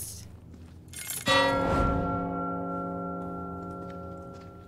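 A gong in the castle of Resident Evil 4 Remake is struck once and rings loud, its bright metallic tone fading slowly over several seconds.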